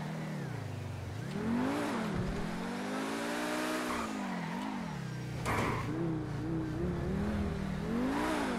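A car in GTA 5 drives with a steady engine drone that rises and falls in pitch as it revs and shifts, fairly close and continuous, with no talking.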